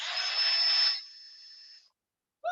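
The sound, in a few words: drill boring a hole in an eggshell half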